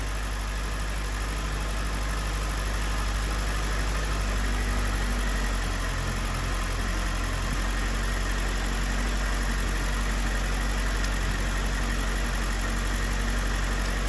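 A Mazda 6 engine with a check engine light on, running really badly and misfiring, idles steadily for the whole stretch, a close, continuous low rumble with no talk over it.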